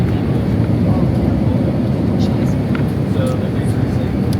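Steady, loud airplane cabin roar during a flight, a broad low rumble that holds constant throughout with no voices.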